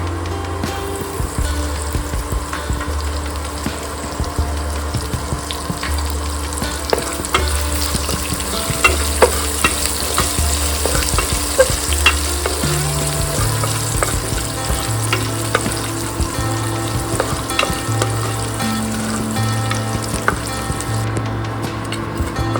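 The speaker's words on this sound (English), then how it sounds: "now let's add crushed cloves of garlic" Crushed garlic cloves frying in a pan of oil, giving a loud continuous sizzle with frequent stirring clicks and scrapes, close up and steady throughout.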